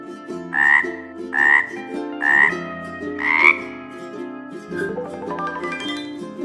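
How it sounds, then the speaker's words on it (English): Four loud, evenly spaced frog croaks ring out one after another, each a short harsh call, followed by a softer rising trill over a steady background tone, with no one talking. "A frog sounds like this."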